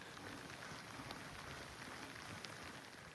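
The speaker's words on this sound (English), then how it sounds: "It's 8:30 on a very wet Thursday morning." Rain falling on a wet, chilly morning on a mountain trail, a steady, dense patter of drops on surfaces, soft and uniform with no voices.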